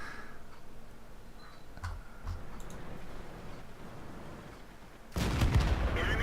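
A Super Pershing tank's main gun in World of Tanks fires once: after several seconds of quiet ticking and faint background noise, a single loud, close blast erupts near the end.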